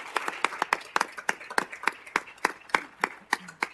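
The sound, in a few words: council meeting applause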